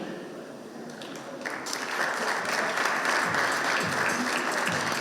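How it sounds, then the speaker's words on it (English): An audience at a CREDAI foundation day felicitation ceremony breaks into applause that starts modestly, then swells into dense, sustained clapping from a large crowd, filling the hall steadily. "let not your applause be weak. I encourage you to please clap it out."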